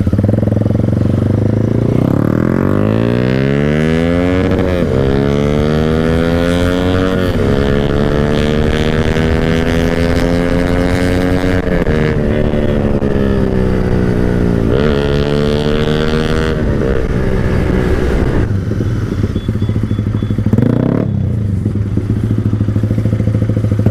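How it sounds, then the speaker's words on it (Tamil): A motorcycle exhaust roars up close while riding through traffic, its revs climbing and dropping in repeated surges, loud and continuous throughout. "டிராஃபிக்கில் எக்ஸாஸ்ட் நோட்டு வேற லெவல் ப்ரோ."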